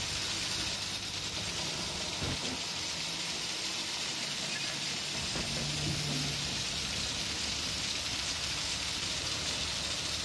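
Steady rain falls in the horror video game Outlast, a constant soft hiss that stays even and fairly faint, with a few dull thumps in the background.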